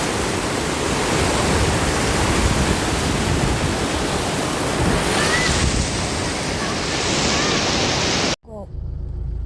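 A Himalayan mountain stream rushes loudly and close by as a continuous, heavy roar of churning water that cuts off abruptly near the end.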